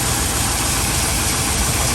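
A 1996–2002 Chevy truck engine, needing a spider fuel injector and with a slight misfire, idles close up with a loud, steady low rumble and no voices.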